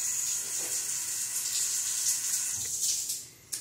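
Two household showers left running, water pouring steadily into the shower bases; a continuous, even hiss of spray holds throughout and fades briefly near the end.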